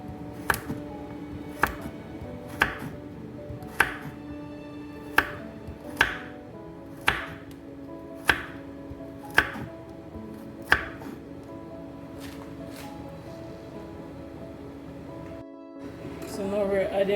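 Carrots being chopped on a board for Jamaican curried goat: about ten sharp, evenly spaced knife strikes, close and clear, over a steady low background hum, with a brief quiet gap and shuffling at the end.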